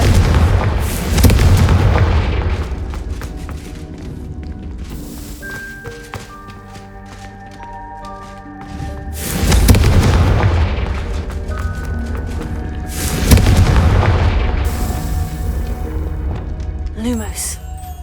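Confringo fire-blast spells explode in Hogwarts Legacy, three heavy booming blasts spaced several seconds apart over game music, with a character voice speaking in between.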